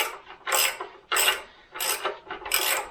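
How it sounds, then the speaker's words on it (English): A ratchet wrench works the last bolt out of a Jaguar E-Type transmission, giving four distinct bursts of rapid metallic clicking, close and fairly loud, separated by short pauses. "So I got the last bolt coming out here."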